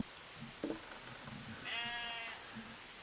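A sheep near a small English pond gives a single wavering bleat at moderate distance, faint against quiet outdoor background noise.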